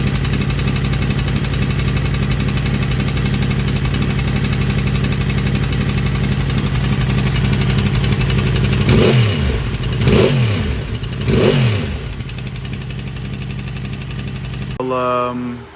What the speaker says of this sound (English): I even tried to put the old headers back on, thinking maybe it was an exhaust issue as well, but no, it's ticking pretty loud.